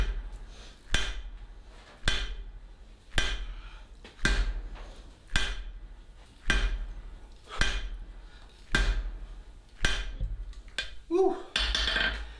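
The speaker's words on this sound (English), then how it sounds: "today we're gonna start with the 4-pound hammer" A 4-pound hammer strikes metal on the face of an anvil while a Harbor Freight ball peen is reshaped into a chasing hammer: about eleven loud, ringing blows at a steady, roughly one-per-second pace, with a softer clatter near the end.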